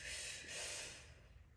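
A breath sipped in through the mouth during yoga practice, a short, soft, hissing inhale heard alone and fading out.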